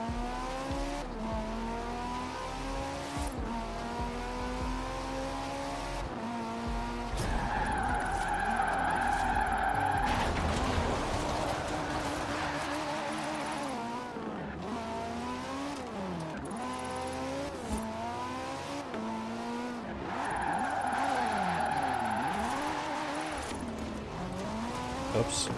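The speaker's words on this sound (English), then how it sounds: "Oh, this is a drift challenge?" Car drifting in Forza Horizon 4 on Fortune Island, engine revving and wavering continuously with long tire squeals and skids rising and falling throughout, fairly loud and steady.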